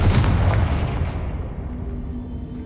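Hogwarts Legacy blasting spell: one loud, close explosion with a heavy low boom that opens the clip, then a long rumbling decay that fades steadily over a couple of seconds.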